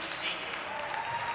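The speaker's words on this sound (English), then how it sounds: "we see some of the fans clapping for her" Basketball fans at a women's college game against Seton Hill applaud as a player exits the court, a steady, fairly faint wash of clapping from a distant crowd with a soft tone running underneath.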